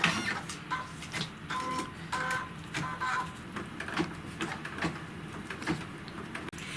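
An embroidery machine stitches a placement line, giving quiet rapid needle clicks and a mechanical whirr in short repeated bursts, with no talking.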